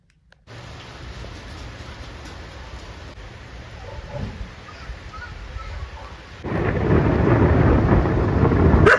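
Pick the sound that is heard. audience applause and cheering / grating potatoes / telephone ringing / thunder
thunder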